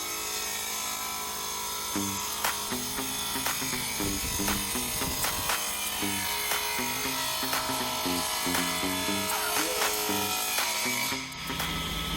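A factory table-mounted circular saw whines at speed while ripping wood, its tone rising and dropping in a series of repeated bursts with rattling, scraping texture throughout.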